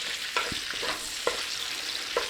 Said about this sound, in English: Now this is a real quick type stir fry on here